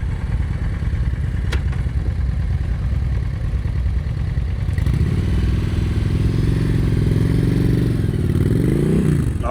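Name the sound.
motorcycle riding at slow speed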